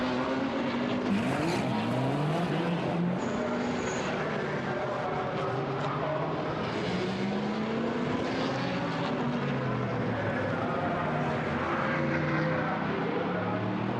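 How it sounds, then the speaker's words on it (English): Audi GT1 race car blasting out of the pit lane at the Nürburgring in an endurance race, engine note climbing through repeated rising gear sweeps under continuous loud track noise from other cars. "the Audi blasts out of the pit lane and gets ahead"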